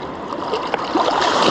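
Choppy sea waves washing onto a beach during a shoreline fishing trip: a steady, loud broadband rush of surf and churning water with no pause, fairly close by.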